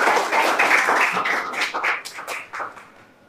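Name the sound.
audience clapping in classroom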